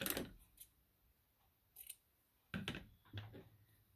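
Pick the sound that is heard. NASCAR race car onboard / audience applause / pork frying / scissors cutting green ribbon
scissors cutting green ribbon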